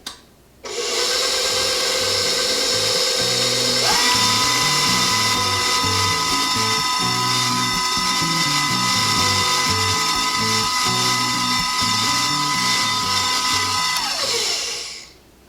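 Electric mixer blending cheese ball ingredients in a bowl, a loud steady motor whine with rhythmic beater knocking that starts abruptly, rises in pitch a few seconds in, then winds down at the end.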